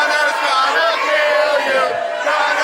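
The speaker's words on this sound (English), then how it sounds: "The boos from this crowd." A dense, loud wrestling-arena crowd roars with sustained booing aimed at wrestler Todd Sexton, a constant wall of voices without a break.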